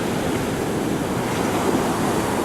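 Pacific Ocean waves washing onto a beach at Brookings, Oregon, a continuous broad roar of surf, close and steady with no speech.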